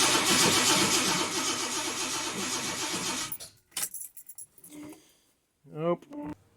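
An XC Ford Falcon's 351 Cleveland V8 with MSD ignition cranks loudly and rhythmically for about three seconds without catching, then cuts off, followed by quieter clunks and a brief voice.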